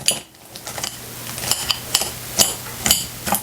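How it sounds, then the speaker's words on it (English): Repeated sharp chopping clacks from a small kitchen chopper chopping cranberries, about eight quick strikes in an uneven rhythm, close and fairly loud. "I'm just going to use this little chopper that I have and give these a chopping."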